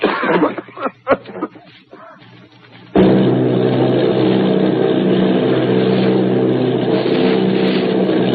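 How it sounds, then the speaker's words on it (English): A low, droning Army bomber plane engine roar starts abruptly partway through and holds steady and loud, after a stretch of scattered, uneven sounds. "Army bombing plane B-843 off Bayonne, New Jersey."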